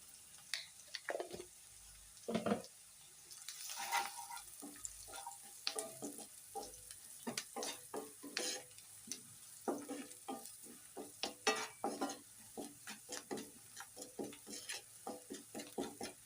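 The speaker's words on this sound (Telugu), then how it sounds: "ఉల్లిపాయ ముక్కలు ఒక 5 నిమిషాలు గోల్డెన్ బ్రౌన్ కలర్ వచ్చే వరకు వేపుకోవాలండి." Onion pieces frying with turmeric in a pan for a chicken liver curry, with steady sizzling broken by repeated stirring and scraping scrapes close by, no talk.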